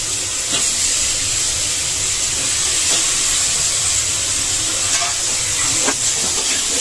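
Ground sorrel leaves dropped into a hot pan over tomato, giving a loud, steady broadband sizzle and hiss that continues evenly throughout with faint crackles, no talking.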